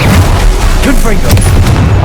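Confringo fire spell going off in the game Hogwarts Legacy, a loud, heavy boom with crackling bursts that fills about two seconds.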